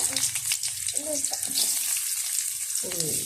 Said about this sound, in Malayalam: ആ ഉള്ളി ഇടട്ടെ.